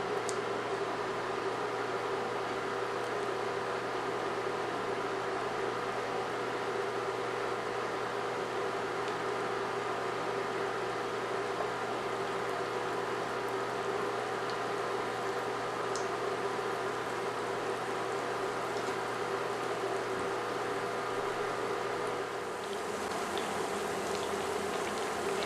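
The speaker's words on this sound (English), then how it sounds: "Let's fry the flattened plantains to obtain a crispy texture." Flattened plantain slices (tostones) fry in oil reheated to 365°F in a skillet, giving a steady, dense sizzle and bubbling hiss that holds for about twenty seconds before easing slightly near the end, with no talk over it.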